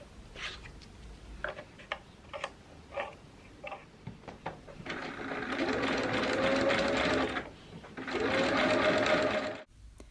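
A sewing machine embroiders a cobweb collar, first in short separate bursts of stitching, then in two longer sustained runs, close and fairly quiet, with no talking.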